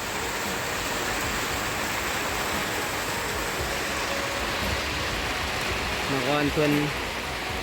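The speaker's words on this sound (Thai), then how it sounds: "ฝนตก" Steady rain falls outdoors in a rural Laotian setting, a dense continuous wash of noise, with a voice speaking briefly near the end.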